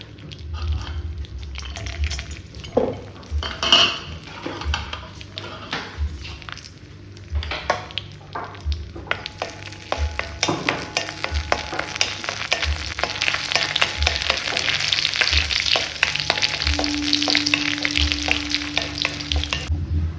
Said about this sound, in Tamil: கடாயில் நெய் ஊற்றிக்கிட்டு முந்திரி பருப்பு நான் பொடியாக நறுக்கி வச்சுருக்கேன் அதை போட்டு கொஞ்சம் ஃப்ரை பண்ணிக்கலாம்